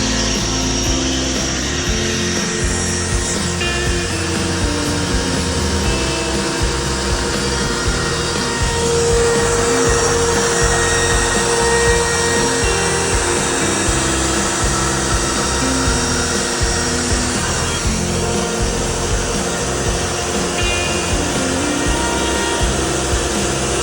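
A budget Longmill MK2 CNC router carves a wooden cutting board, its spindle whine and rough cutting noise loud and continuous throughout, with dust collection running and no talk.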